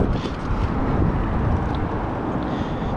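Strong wind buffets the microphone on a lake during crappie fishing in 15 to 20+ mph gusts, a steady loud roar with low rumble that persists without break.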